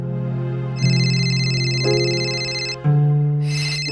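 A phone ringtone plays loud and close, a steady electronic melody whose pitch shifts every second or so, with no talking.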